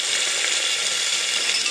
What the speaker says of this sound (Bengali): এগুলোকে আমি একটু ভাজা ভাজা করে নেব